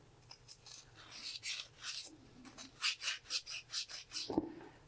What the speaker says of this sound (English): I like to take my green pad and just rotate it